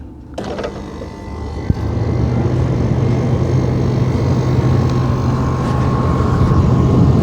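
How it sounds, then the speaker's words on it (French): A small pool heat pump's fan starts up and then runs with a steady, close whooshing hum and a faint low drone underneath, continuous and loud with no talking. "Là, vous entendez bien le bruit du ventilo"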